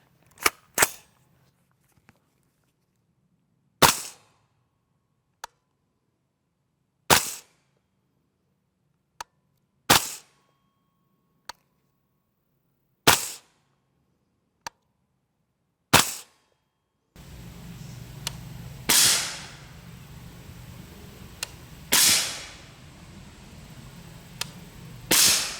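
Suppressed 300 Blackout rifle fired from a 10.5-inch barrel with Winchester Super Suppressed 200-grain subsonic rounds: a series of sharp, spaced cracks, roughly eight shots, closing with a few louder reports over background noise.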